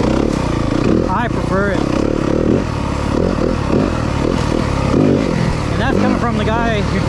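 A 2023 Yamaha 250FX off-road motorcycle engine revs and pulls under throttle over rough trail, steady and near, with clattering over terrain while a person talks over it.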